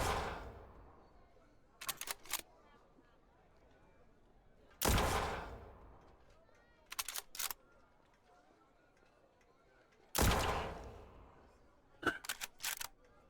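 Gunshots in the Spacebourne 2 video game, fired at civilians during a village raid: three loud single shots a few seconds apart, each followed by a quick cluster of sharper cracks or clicks, with a quiet background between bursts.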